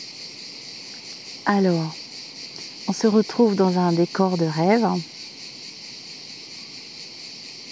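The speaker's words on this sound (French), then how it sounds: "Avec les grillons et les cigales." Crickets and cicadas shrill in a steady, continuous high-pitched drone in a sunny outdoor setting, constant throughout while someone talks for a few seconds over it.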